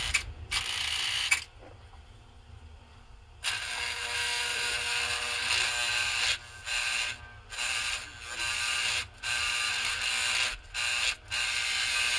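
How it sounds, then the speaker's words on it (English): A 1949 Semaphore Sam #758 toy train signal clicks and buzzes mechanically as its solenoid is energized, with several short on-off bursts of ratcheting noise separated by quiet gaps. "Now, if we energize our solenoid, what happens?"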